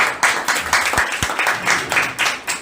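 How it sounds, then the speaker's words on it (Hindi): A church congregation claps loudly during a Sunday service, a dense wash of many hands beating in a fast, steady rhythm. "जोरदार ताली बजाइए।"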